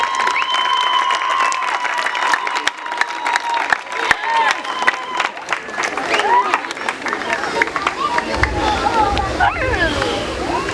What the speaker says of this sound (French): vous allez applaudir